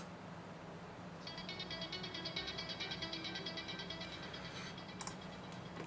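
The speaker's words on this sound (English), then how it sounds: "So verse plucks sounds like this." Bright, rapid synth plucks from a sample pack enter after about a second and repeat in a fast, even pattern over a low background hum, with no talking.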